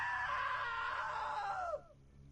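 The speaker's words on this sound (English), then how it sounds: "Now that was a great scream." A long, loud, wavering scream carries on for nearly two seconds, then drops in pitch and breaks off abruptly into near silence.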